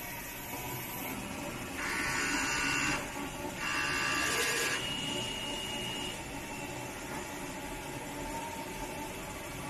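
A DTF printer prints a head alignment pattern for its white and color print heads, a low steady mechanical hum with two short, louder whirring passes of the moving print head near the start.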